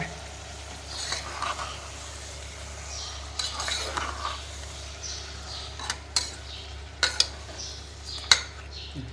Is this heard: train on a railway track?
no